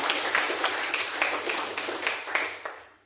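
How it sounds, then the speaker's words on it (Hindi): A church congregation claps for God's glory during a sermon, a quick burst of many hands with a few sharper claps standing out, tapering off within about three seconds. "क्यों ना हम अपन परमेश्वर के महिमा के लिए उसके ताली दे।"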